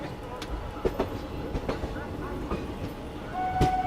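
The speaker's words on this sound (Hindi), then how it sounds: "ये अपना अराइवल हो रहा है आगरा कैंट रेलवे स्टेशन में" Special train from Delhi to Prayagraj rolling into Agra Cantt railway station, a low rumbling ride with periodic wheel clicks and clanks, a faint tonal squeal near the end, heard from onboard.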